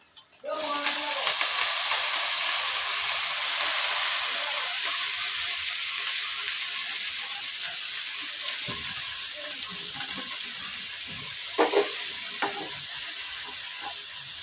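Masala bajji with amaranth leaves fries in hot oil, giving a loud, steady sizzle and hiss that runs throughout, with a few brief clatters of stirring near the end.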